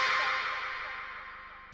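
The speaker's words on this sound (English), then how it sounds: "I've got an echo on this one to let it sort of fade out" Short vocal chop in an electronic track, drenched in echo that trails off and fades out over about two seconds before a brief new hit at the end.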